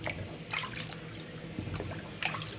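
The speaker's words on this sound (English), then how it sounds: "transfer these tomatoes into the cold water" Roma tomatoes dropped into a bowl of cold water, with soft splashes, drips and trickling sloshes spread across a few seconds, a couple of brighter splash bursts standing out near the start and end.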